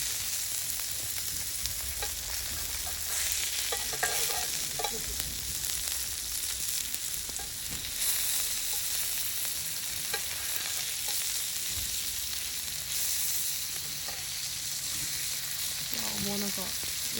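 Meat sizzles and fries steadily on a thick 6 mm steel griddle at a campsite, a continuous close crackle with occasional stirring and scraping clicks throughout.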